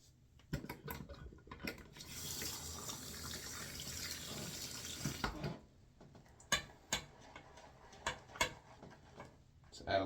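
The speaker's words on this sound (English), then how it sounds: "Add a little bit more water in my lather, kind of rehydrate it." Tap water runs for a few seconds into a shaving lather during a head shave, a steady rushing wash followed by scattered clicks and taps of the bowl and brush, close by.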